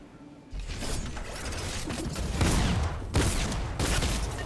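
Gunfire rattles in a Fortnite Season 10 match, with loud rapid bursts that start abruptly after a moment of quiet and recur in sharp clusters.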